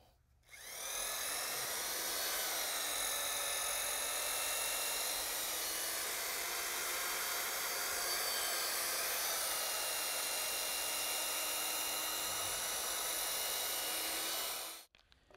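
Power drill mixing MMA resin for an elastomeric parking deck coating, a steady high-pitched whine running continuously for about fourteen seconds, fairly close and uninterrupted, starting and stopping abruptly with no talk.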